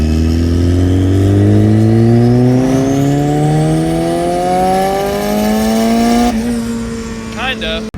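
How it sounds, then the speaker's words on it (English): A turbocharged car accelerates hard in second gear building boost, engine note climbing steadily for several seconds before a sharp shift or lift near the end, loud and close from inside the car. "let's do second gear. Let's see how much boost it builds and what happens"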